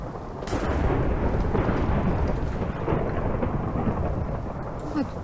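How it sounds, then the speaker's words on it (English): Thunder rumbles through a storm in the video game Minecraft, a loud continuous roll with rain hissing beneath it, steady and unbroken with no voices. "so much thunder? I get much thunder here."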